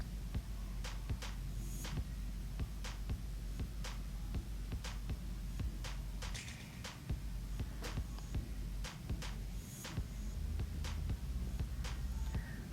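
A stand mixer blends Italian cream cake batter with a steady, close motor hum and a low throbbing rhythm, dotted with faint clicks from the beater against the bowl.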